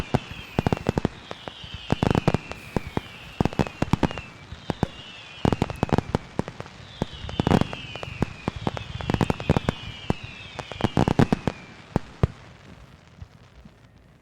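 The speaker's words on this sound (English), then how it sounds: "I can't believe I haven't been able to use my fireworks all night long. I'm using them right now to celebrate us going to a Game 7." Fireworks going off in celebration outdoors, a long run of sharp crackling bangs and rapid popping bursts, with rising whistles between them, loud and near and continuing for the whole stretch without talk.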